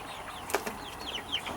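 A quail alone in an isolation pen, injured from fighting other birds, gives a few faint, short chirping calls and clucks, close by, with no talk.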